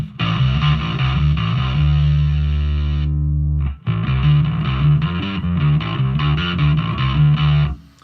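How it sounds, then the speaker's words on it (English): A heavily fuzzed, distorted bass guitar, fuzz placed after distortion in a Headrush rig, plays loud gritty notes, one long sustained note, a brief gap, then a run of choppy repeated notes. "let's see what happens if we put the fuzz after the distortion"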